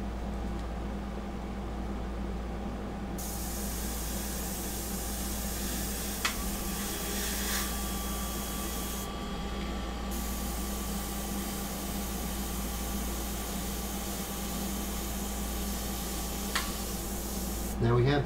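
A long, continuous hiss of an airbrush spraying paint onto a sepia portrait runs throughout, starting and stopping a few times, with a faint low hum underneath.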